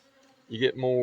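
Honey bees in a robbing frenzy, a faint low hum that swells abruptly into a loud close buzz for the last half second.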